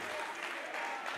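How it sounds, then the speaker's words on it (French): An audience at a semi-final talent show applauds a contestant, a brief burst of many hands clapping at a steady, full level with crowd noise mixed in. "Est-ce qu'on peut applaudir encore une fois de plus pour les candidats numéro 12?"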